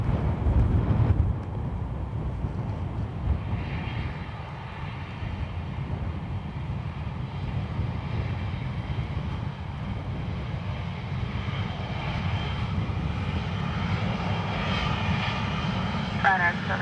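Aircraft taxiing at Dublin Airport give off a steady, loud engine rumble with a breathy roar throughout, while people talk and radio chatter runs over it.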